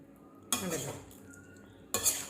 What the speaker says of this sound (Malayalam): നല്ലോണം മിക്സ് ചെയ്തെടുക്കണം.